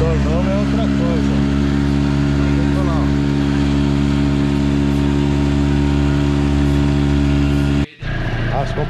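A new boat outboard motor runs steadily and loudly close by, a continuous droning hum that cuts out briefly near the end, with voices talking over it.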